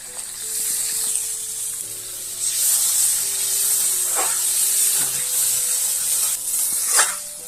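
Water poured into a hot pan of tilapia in mustard paste, a Bengali fish curry with garlic and dried chillies, sets off a loud, steady sizzle and hiss with bursts of steaming spatter and occasional stirring, heard close up with no talk.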